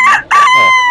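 A single loud young rooster crow, close by at a market, with a sharp opening note and a long drawn-out call.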